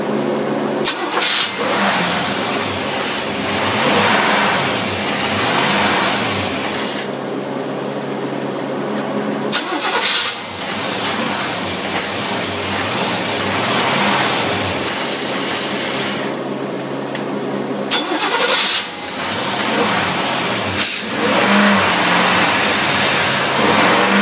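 A car engine fitted with a tri-power carburetor setup runs at a fast idle and is revved repeatedly, loud and close, with several rises and drops in throttle over a steady rough roar.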